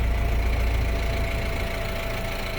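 Kubota 135-horsepower tractor with about 1,785 hours on it, its engine idling quietly in a smooth, even mid-low hum with a light knocking texture, close and steady with no other sounds.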